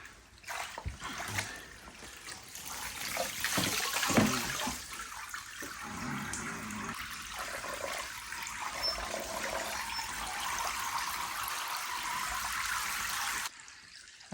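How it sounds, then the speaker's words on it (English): A tanned bear skin hung from a hoist drains water and pickling solution in a steady, continuous trickle and splash that runs for several seconds and then stops abruptly. "Let all this water and pickle run off"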